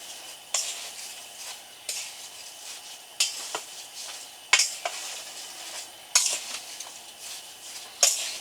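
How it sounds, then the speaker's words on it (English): Apple pie filling being stirred in a bowl at a camp setting, a spoon scraping and clinking in a soft irregular rhythm with about a dozen sharper knocks, close and quiet. "And we'll kind of stir this together."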